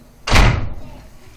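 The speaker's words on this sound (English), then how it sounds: "Close my door, Kai Kai, so he doesn't get out." A single close, loud bang of a door being shut, a sharp slam that decays over about half a second into quiet.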